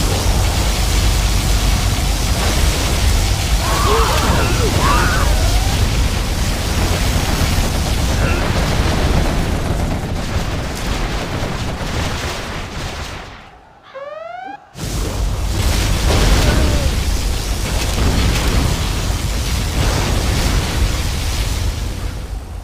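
A particle cannon fires in Command & Conquer Generals Zero Hour: a loud, continuous roaring blast fills the whole stretch, broken by a brief near-silent gap with rising, zapping tones before the roar resumes.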